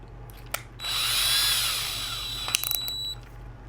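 A power drill whines at high speed for about two seconds as it bores into wood, then slows and stops, followed by a few clicks and taps.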